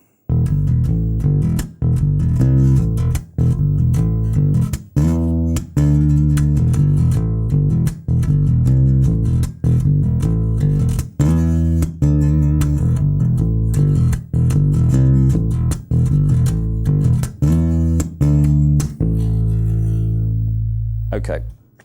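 A band plays the bridge section of a rock song, driven by a two-bar bass riff starting on open E. Loud, close, punchy, repeating phrases are broken by short stops and end on a ringing, sustained chord.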